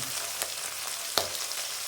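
Prawns frying in hot oil in a pan, a continuous close hiss of sizzling with a couple of brief sharper spits.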